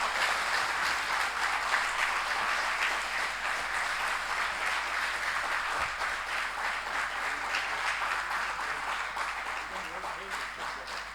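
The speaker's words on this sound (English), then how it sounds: "Can we request a louder cheer from the audiences" A university book launch audience in Delhi applauds and cheers in a dense, continuous wash of clapping that holds steady and fades slightly at the end.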